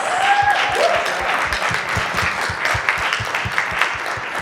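Sustained audience applause with steady, dense clapping from a crowd filling a hall after a talk with dancers, loud and continuous throughout.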